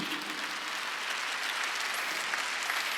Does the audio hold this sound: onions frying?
no